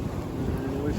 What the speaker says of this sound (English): And we finally got some breeze.